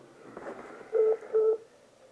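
Two short electronic tones sound close together, like keypad presses while dialing a phone number before a voicemail greeting, set against a faint muffled background.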